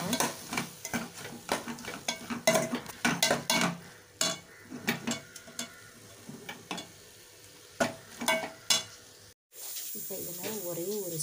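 Crushed black pepper and cumin sauté in a pan while a metal spoon scrapes and clatters in rapid, irregular strokes over a faint sizzle; a voice briefly speaks near the end.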